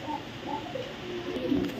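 A female Berlin pigeon gives soft low coos, a few short murmuring calls close by in a loft, with no talk over them.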